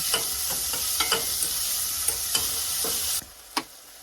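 Onions sizzle and soften in a hot pan for lasagna, a steady frying hiss broken by scraping stirs and a few utensil knocks, before the sizzle drops away sharply near the end.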